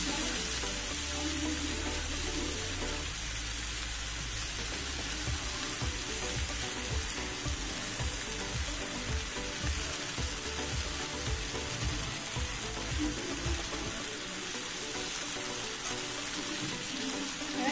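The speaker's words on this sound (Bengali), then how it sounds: "নেড়ে নেব। নেড়ে নিতে লেবুটা একটা দিয়ে দেবো।" Sabudana khichdi being stirred in a pan, with a steady bed of sizzling and a run of soft, rhythmic scraping stirs in the middle, close and continuous without speech.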